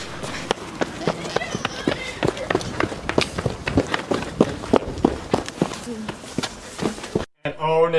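Rapid, regular footsteps of a video game character running hard, evenly spaced thuds repeating steadily under game ambience with a voice murmuring faintly, then a sudden brief dropout near the end.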